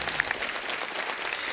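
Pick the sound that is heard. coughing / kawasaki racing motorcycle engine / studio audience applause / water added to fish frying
studio audience applause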